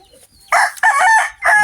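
A rooster crows close by in a loud burst of two or three harsh, strained calls. A short gap follows, then another call starts at the end, and there is no talk.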